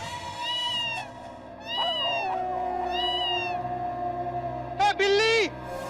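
Repeated cat meows, several drawn-out calls in a row ending in a louder, higher pair, heard close over a steady indoor hum in a Hindi comedy scene.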